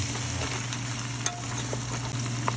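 Squash and string beans sauté in a pan with a steady close sizzle, a few light clinks and scrapes of stirring over a low hum.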